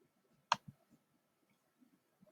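A couple of crisp, close mouse clicks separated by quiet pauses, with faint low murmurs in between, as a button is pressed in Google Classroom.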